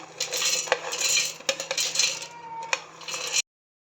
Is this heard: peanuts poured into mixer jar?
yes